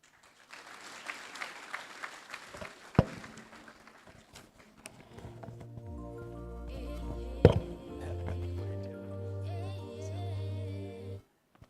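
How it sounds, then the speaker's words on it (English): An audience at a World Teacher's Day 2024 ceremony claps for several seconds before the applause thins out and sustained musical tones with a few sharp knocks take over. "Can we give him a great round of applause, please?"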